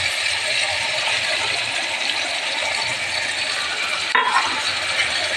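A ginger, garlic and onion paste fries with a bright, continuous sizzle in a pan, with brief scraping and stirring clatter near the end.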